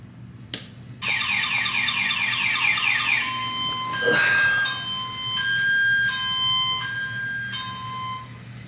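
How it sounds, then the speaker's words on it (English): A Gestapo-style siren serving as a morning alarm blares after a brief click, first rapid warbling tones, then a series of steady high two-note wails repeating in regular bursts, loud and close with no one talking. "Why in God's name do you have a Gestapo siren as your alarm?"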